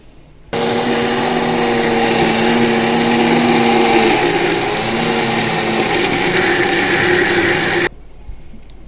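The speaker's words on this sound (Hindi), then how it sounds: "इस तरह ही सारी पालक असी ग्राइंड करांगे तो हरियां मिर्चां भी ग्राइंड करांगे" Electric grinder running on raw spinach, a loud steady whirring motor drone starting abruptly and stopping after about seven seconds, with a slight shift in pitch partway through.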